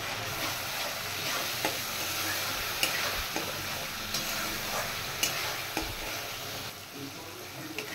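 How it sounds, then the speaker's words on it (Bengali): Steady frying sizzle of ground chili and cumin paste with salt and turmeric for a hilsa fish curry, with occasional sharp scrapes and clicks of stirring in a pan, continuous and close, no voices. "মশলা ভাজা হয়ে গেছে"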